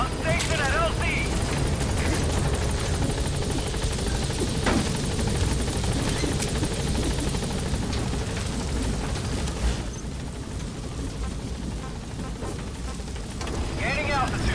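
Helicopter arriving at a landing zone in Metal Gear Solid V: The Phantom Pain, a steady loud rotor and engine roar filling the whole stretch, easing slightly near the end, with radio-style voices over it.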